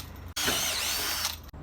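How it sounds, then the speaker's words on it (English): A power drill bores into PVC pipe, a brief high whine lasting about a second, clean and close, bracketed by short pauses and a low mechanical rumble. "Once we've marked out our 4 points, we just drill into each of those 4 points."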